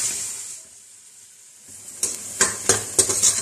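Sliced onions fry in oil for a beef pasanday, giving a steady bright sizzle that briefly drops low, then returns louder with a run of sharp scraping stirs in the last second and a half.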